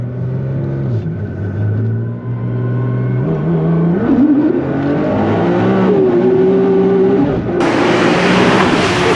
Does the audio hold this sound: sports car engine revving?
yes